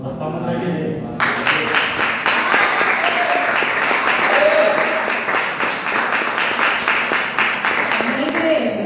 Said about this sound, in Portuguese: As palmas para a igreja.